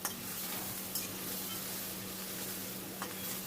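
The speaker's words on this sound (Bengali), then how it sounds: "নেড়ে নেড়ে মশলাটাকে ভালো করে ভেজে নিতে হবে।" Ginger garlic paste frying in a pan with a steady, fairly quiet sizzle, plus a few brief clicks of a stirring spoon against the pan and a low steady hum underneath.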